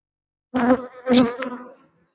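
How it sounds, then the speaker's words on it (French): Honeybees buzzing close around a hive frame during a beehive inspection, two loud swelling bursts of dense buzzing about half a second apart, then fading out after a short tail. "On a beaucoup d'abeilles, donc on ne voit pas trop."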